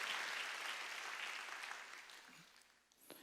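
A church congregation clapping their hands together during a Wednesday worship service, a brief burst of applause that fades out within a few seconds.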